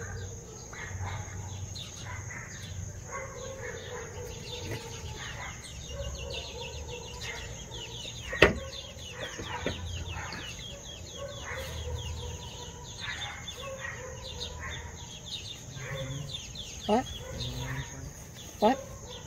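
Outdoors, chickens cluck and birds call repeatedly over a bed of insect chirping, with voices talking at times and a few sharp knocks.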